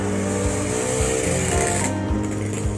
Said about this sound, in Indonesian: Ada mobil lagi tuh.